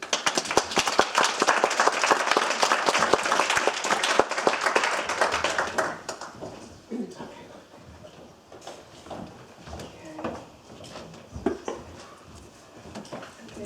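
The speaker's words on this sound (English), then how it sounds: "So please give a nice round of applause" An audience at a lecture on Black women in academia gives a warm round of applause for Dr Ama Biney, a dense wash of many hands for about six seconds that then fades to scattered claps and quiet room noise.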